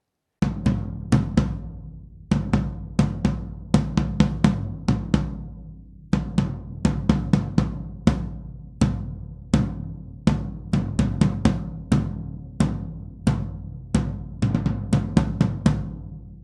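A 16 by 16 Tama drum from a 1983 Imperialstar kit is struck in a steady run of deep, booming hits, close and loud, some single and some in quick doubles, each ringing out with a round low tail.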